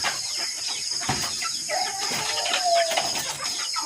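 Chickens cluck nearby, with a few short, uneven calls over a steady background hiss.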